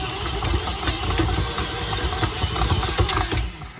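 A stand mixer kneads whole wheat New York pizza dough, giving a steady, close motor whir with a rhythmic thumping churn that runs throughout and then eases off at the end.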